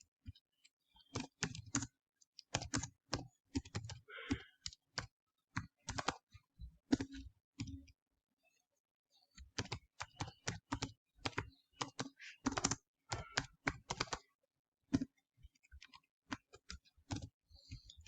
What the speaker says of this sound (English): I think we'll type it here.